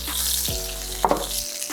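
Steak frying in a pan gives a steady close sizzle throughout, with a couple of sharper crackles and pops partway through. Nobody speaks.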